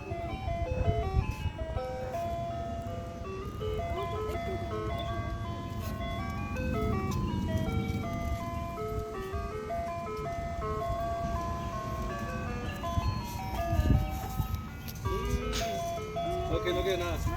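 A blue ice cream truck plays its looping chime melody steadily nearby while people talk over it.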